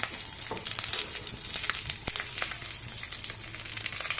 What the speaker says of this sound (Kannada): ಸ್ವಲ್ಪ ಈರುಳ್ಳಿ ಹಾಕೋಣ.